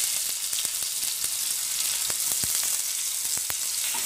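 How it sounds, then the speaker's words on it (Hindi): Onions frying in a spoonful of oil in a pan for bhindi fry, a steady close hiss of sizzling with scattered small pops and crackles throughout, no talking. "अब हम ऑनियन को अच्छी तरह से फ्राई होने देंगे।"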